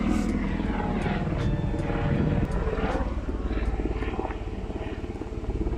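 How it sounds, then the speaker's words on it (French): Tourist helicopters' rotors thrum steadily overhead in the Cirque de Cilaos on La Réunion, a continuous chopping drone that stays loud throughout without fading. "Foutus hélicoptères, ils n'arrêtent pas."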